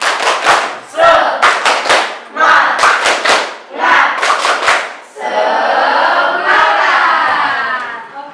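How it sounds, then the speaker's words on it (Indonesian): A school class chants a spirit clap routine during a social studies lesson, with bursts of sharp, rhythmic group clapping mixed with shouted voices in time, ending in a long, loud collective cheer. "Tepuk semangat."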